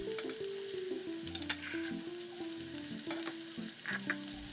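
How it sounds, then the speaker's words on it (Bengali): Fish with spices and yogurt sizzles in a shaken pan, a close, steady frying hiss with light scraping under gentle background music. "প্যানের হাতলটা ধরে ভালো করে দুলিয়ে দুলিয়ে দিচ্ছি যাতে করে মাছ এবং মশলার সাথে দইটা ভালো করে মিশে যায়।"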